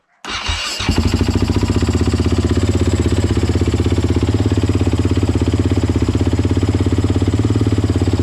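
A Husaberg 450 FE four-stroke motorcycle fires up and settles into a steady, loud idle, its rapid even thumping held close and alone for several seconds while the oil warms.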